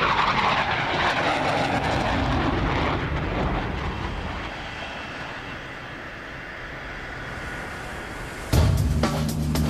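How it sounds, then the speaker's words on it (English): An F/A-18 fighter jet roars aboard an aircraft carrier, a loud, broad engine rush that slowly fades, then a sudden loud clank and heavy rumble near the end. "these F-A-18 pilots can't rest until they bring their aircraft safely to a stop"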